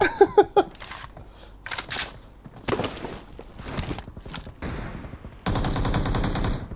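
Gunfire in a shooter video game comes as separate bursts of rapid shots with short gaps between them, then a sustained loud volley at the end.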